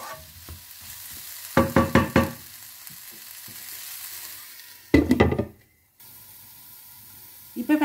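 Mushroom curry with ground spices being stirred in a pan, a few bursts of spoon scraping and sizzling clatter separated by quiet gaps, close and moderately loud.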